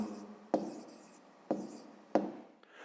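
A pen moves steadily across paper as a math answer is written out by hand, with three sharp taps where the pen strikes down, close and fairly quiet, with no talking.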